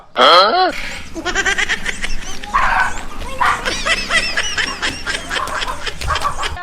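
A dog barks loudly in a rural Gujarati comedy sketch, a sharp bark or yelp at the start, then voices talking over a noisy background.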